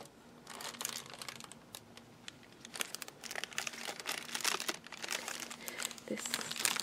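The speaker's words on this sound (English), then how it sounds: "This is a bag." A bag is handled up close in a calm caring setting, producing continuous crisp crinkling and crumpling that rises and falls unevenly throughout.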